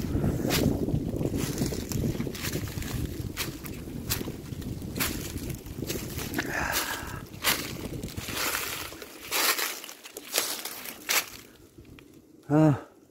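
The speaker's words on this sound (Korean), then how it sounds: "바람이 좀 부네" Wind gusts roar across a mountainside amid spring azaleas, buffeting the microphone with heavy rumbling that eases toward the end, where a brief voice breaks through.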